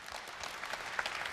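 Audience applause at a live broadcast university admissions briefing, a steady wash of clapping from a crowd that holds at an even level throughout, with no voices over it.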